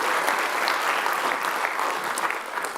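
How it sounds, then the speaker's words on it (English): Loud, sustained applause from a large conference audience at an AI engineering event, with continuous dense clapping that fills the room evenly from start to finish. "one more round of applause for all of the gold and silver sponsors"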